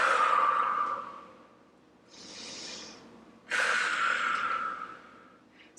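Slow, audible breaths drawn and released during a yoga stretch: a long airy exhale, a softer pause, then another strong breath, close and alone without talk.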